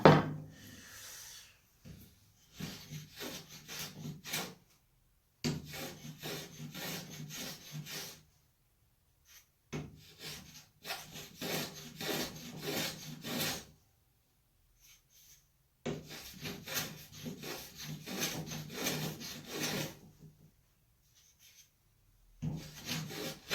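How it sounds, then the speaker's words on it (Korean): Wood is cut by hand while finishing a top plate: dry, rasping strokes come in steady bursts of several seconds, separated by short pauses, close and fairly loud with no talk. "이 나무 썰리는 소리가 참 좋아요"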